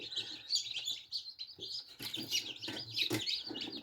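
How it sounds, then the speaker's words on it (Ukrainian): Tiny newly hatched chicks cheep continuously in high, rapid peeps, several overlapping close by, with soft rustling underneath. "Курчатка лупляться гарненькі."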